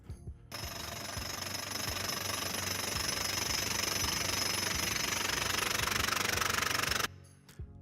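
A large industrial forging machine runs in a startup's forging workshop, giving a loud, steady, rapid hammering roar close by, with a sharp start and stop and no voices.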